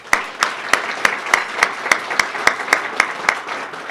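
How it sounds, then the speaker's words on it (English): At a golf club luncheon, hands clap in a slow, steady, evenly spaced rhythm for the Thorny Lee staff, about a dozen sharp, close claps. "Let's have a round of applause for Sharon Guthrie and the Thorny Lee staff for this wonderful meal"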